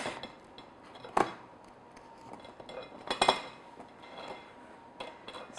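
A knife cuts through a loaf of Irish soda bread, giving a few sharp clinks and taps of the blade against the board and plate amid quieter scraping.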